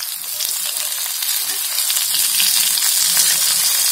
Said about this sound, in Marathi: आता आपली भेंडी फ्राय मस्त छान व्हायला आली आहे